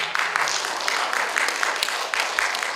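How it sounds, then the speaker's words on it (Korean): An audience at a lecture hall academy event in Gyeongju applauds, a dense, steady wash of many hands clapping at moderate distance with no pause across the whole moment. "박수 소리가 좋아서 제가 좀 계속하겠습니다."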